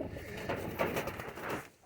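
Pigeons from a keeper's low-priced collection cooing softly, a steady low murmur of overlapping coos blended with faint background noise, with no talking.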